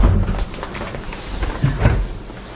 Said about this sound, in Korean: 이렇게 문 열어서 한번 보여드려 볼게요